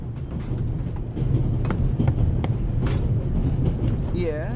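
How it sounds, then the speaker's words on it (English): Inside a train in The Raven Remastered video game, a low, continuous rumble and rattle of the carriage runs steadily throughout, with a voice speaking over it. "The noise on this train is driving me crazy"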